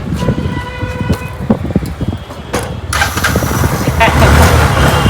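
A motorcycle with an electric self-start cranks and fires up after a fresh battery is fitted; a loud, steady engine roar takes over partway through, following a stretch of clicks and clatter, with people talking nearby.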